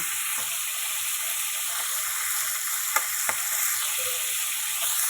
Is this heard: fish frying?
yes